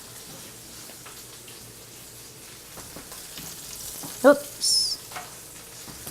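Pork tenderloin seasoned with garlic salt sizzles and fries in a pan, a low steady hiss with a few clinks and stirring sounds, and a brief spoken word partway through.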